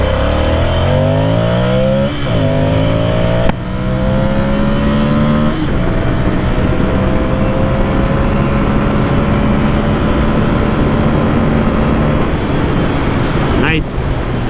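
A Ducati Monster 600 motorcycle engine roars at full throttle, loud and close, its pitch climbing through repeated gear changes, with a sharp rise again at the very end.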